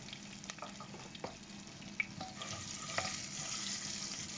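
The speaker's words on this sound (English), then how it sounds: "This is more stirring." Chopped green chili, ginger and garlic fry in hot oil for a spicy fish curry, with steady close sizzling and a few clinks and scrapes of a spoon stirring the pan.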